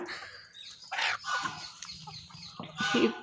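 Native country chickens on a small farm cluck and squawk nearby in short, irregular bursts, with rustling and a few louder calls toward the end.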